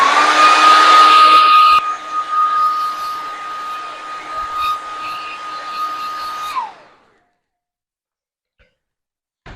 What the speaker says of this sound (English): I'm going to get my hairdryer out again